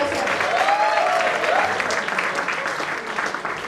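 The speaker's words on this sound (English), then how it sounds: "Big round of applause for yourself" Conference audience applauding in a large hall, a broad, dense wash of clapping sustained steadily for several seconds.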